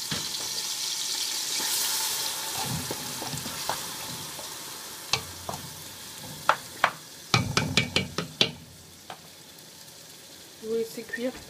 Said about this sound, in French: lorsque l'huile est bien chaude, vous allez rajouter les oignons dans la marmite